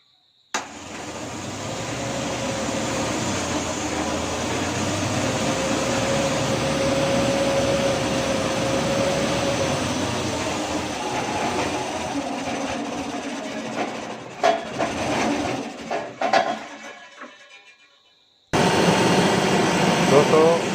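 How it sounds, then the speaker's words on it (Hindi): A small electric generator runs steadily after starting, its engine humming loud and close for most of the stretch, then faltering briefly and cutting out before resuming near the end. "ये जनरेटर स्टार्ट हो गया है।"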